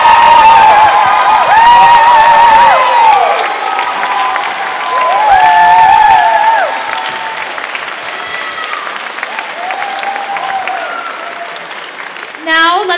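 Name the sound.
audience applause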